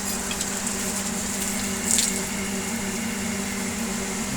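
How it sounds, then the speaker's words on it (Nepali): A tap runs in a steady, moderately close stream while someone washes their face, with a short louder splash partway through. "दाइ यहाँ मुख धुने"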